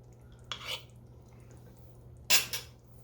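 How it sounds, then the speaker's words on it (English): Two short bursts of a spoon scraping and clanking around a pot of tomato spaghetti sauce with herbs, close and fairly clear against quiet kitchen background hum. "I'll stir that up."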